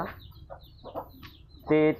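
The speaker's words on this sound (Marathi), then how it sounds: "मित्रांनो बघा, आपल्यापाशी 2 कोंबड्या आहेत. दोन्ही पांढऱ्याच आहेत." Two white hens clucking softly in short scattered calls close by, ending with a louder sustained squawk, with faint voices in the background.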